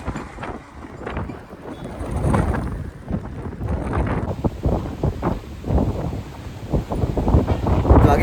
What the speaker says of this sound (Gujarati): પવન એટલે બહુ ડેન્જર પવન આવતો કેવો જાય તે